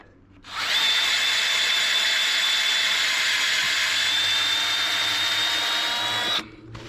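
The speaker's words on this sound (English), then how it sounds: "Best drill ever. I got it on slow." A power drill set on slow speed whirs steadily for about six seconds at a constant high whine, drilling a clean hole, starting and stopping abruptly, close and loud.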